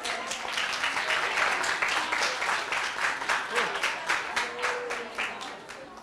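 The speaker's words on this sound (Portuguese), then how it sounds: "Uma salva de palmas." A graduation ceremony audience claps at a steady pulsing rhythm, a dense, fairly loud round of applause continuing throughout with faint voices underneath.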